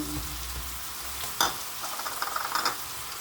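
Homemade shrimp paste (alamang) frying in a pan, with a steady soft sizzle and a few scraping stirs and clinks of a utensil, close and fairly quiet, with no talk.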